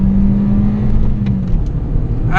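A Citroën C2 VTS engine pulls hard under acceleration, a loud steady drone heard from inside the car with the pitch holding and then shifting slightly, and no talk over it.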